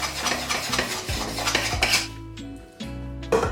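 Two spoons stir crêpe batter for a protein crêpe in a bowl, giving close, rhythmic scraping and clinking strokes that pause briefly before resuming.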